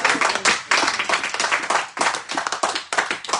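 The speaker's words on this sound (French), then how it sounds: "Acclame pour la scène. Acclame." A church congregation claps in uneven rhythmic bursts of close hand-claps, with short pauses between waves of applause.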